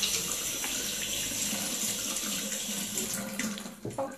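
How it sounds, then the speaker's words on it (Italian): Hands being rinsed under a running kitchen tap, a steady close rush of water into the sink that breaks up into splashes and stops near the end. "però mi sciacquo un attimo le mani"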